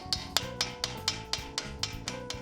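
Metal hammer blows strike the axle of a 1996–2000 Honda Civic EK during a rear disc brake swap: about ten sharp, evenly spaced knocks in quick rhythm, close and moderately loud, with no talking.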